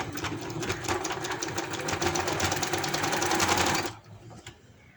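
A sewing machine runs steadily, stitching the hem of a trouser for a 2-3 year old girl. It makes a fast, even mechanical rattle for about four seconds, then stops abruptly. Nobody speaks.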